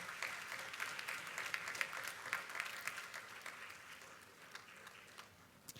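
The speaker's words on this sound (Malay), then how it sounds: "berdiri dan memberi tepukan tangan kepada yang telah bersama-sama kita" Audience applause at a Puteri UMNO Sabah gathering, a steady wash of many hands clapping with a few sharper claps standing out, moderately distant and slowly fading toward the end.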